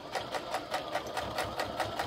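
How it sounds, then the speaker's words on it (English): A sewing machine stitching around the edge of a fabric travel cord organizer, a steady rapid mechanical chatter of even, closely spaced stitch beats, close and continuous. "So sew all the way around"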